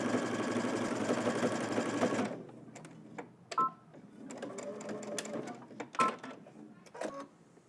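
A sewing machine runs a steady, dense stitch along a seam of a baggy sweatpant, loud and close for about two seconds, then stops, followed by quieter scattered handling clicks and fabric rustles.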